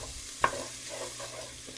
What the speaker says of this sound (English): in goes that 3 cloves of garlic. And I'm just going to stir this around for about 30 seconds.